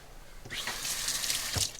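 Kitchen tap water runs briefly to wet a spatula, a bright rushing hiss that starts after a short pause and continues steadily for over a second, close and alone.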